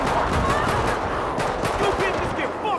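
Rapid gunfire shooting zombies at night in GTA V, with dense, continuous bursts of shots and heavy rumbling game noise.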